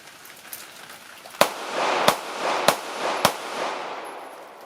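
A Girsan Regard pistol is test-fired outdoors: four sharp, loud gunshots spaced roughly half a second apart, each followed by a brief echoing tail, with no talk.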